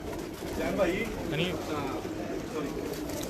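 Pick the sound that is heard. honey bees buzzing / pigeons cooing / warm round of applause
pigeons cooing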